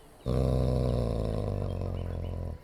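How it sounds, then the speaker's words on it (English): A single deep, drawn-out dog growl from the Dragon Age: Origins video game rumbles loud and close for about two seconds, starting and stopping abruptly. "Conversational barking."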